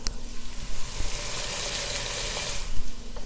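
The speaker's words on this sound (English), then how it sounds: "Now you want to hear it kind of sizzling, but you don't want to hear it sound like it's kind of searing or burning" Finely chopped ingredients for a pork sausage sugo sizzle steadily in a hot pan, a continuous close hiss with faint crackles and no talking.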